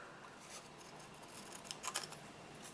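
Scissors snip through craft paper with a few quiet, crisp cuts clustered near the end, close by in a calm room.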